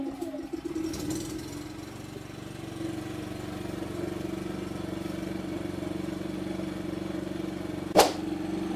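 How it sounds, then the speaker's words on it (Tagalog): A Philking 4200 inverter silent generator sputters to life, then settles into a steady, low, even hum that carries on for several seconds. One brief sharp click is heard near the end, and the sound is fairly quiet overall. "Start natin yung generator."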